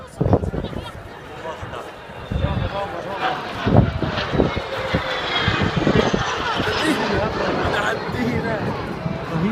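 Jet aircraft fly a crossing formation manoeuvre at an air show, their engine roar rising and falling at a distance beneath a public-address commentator talking over the noise.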